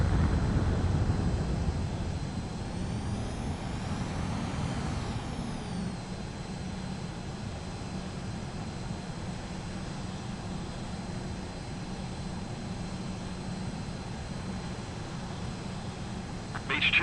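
Fighter jet roaring in Ace Combat 7 as it begins its takeoff, a steady loud engine rumble holding for the whole stretch, with a rising whine sweeping up and back near the start.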